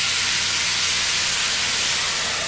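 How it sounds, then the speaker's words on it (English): Onions and vegetables steam in a pan after a splash of water is added, giving a loud, constant broadband hiss that lasts throughout with no talk. "Just kind of let them steam down for just about 30 seconds."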